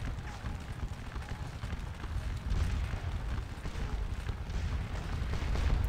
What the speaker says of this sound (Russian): Тут еще будет неэффективная стрельба.